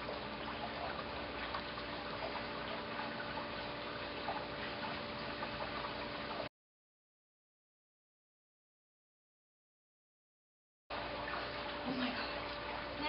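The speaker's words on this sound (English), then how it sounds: "it's like really dripping now." Water runs and drips steadily and fairly quietly at home, breaking off into several seconds of silence before resuming.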